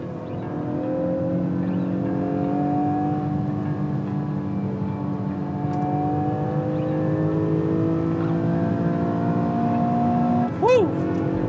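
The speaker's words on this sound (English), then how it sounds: "This is actually me feeling the car out." A Honda NSX sports car is driven at a moderate, steady pace, heard from inside the car. The engine hum stays even with gently rising harmonics, and a short squeaky chirp comes near the end.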